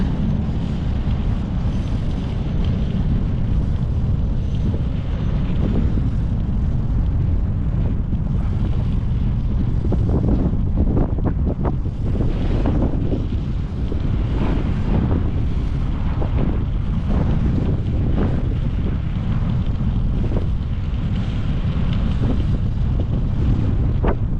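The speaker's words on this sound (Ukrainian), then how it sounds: "Вот это дує дубарина." Strong cold wind buffets the microphone of a bicycle rider in a city, a loud continuous roaring rumble that keeps going for the whole stretch with no talking.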